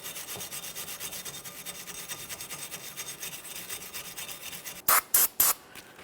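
Steady abrasive rubbing as a cloth sanding cookie scrubs the wheel bearing hub on a 2014-2019 Toyota Corolla during a rear brake job, continuous and close, ending in a few sharp, loud bursts.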